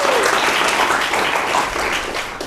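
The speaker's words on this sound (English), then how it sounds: "Can we all give them a warm round of applause for joining us?" A warm round of applause from an audience, steady dense clapping that fills the whole stretch and tapers slightly at the end, with no speech over it.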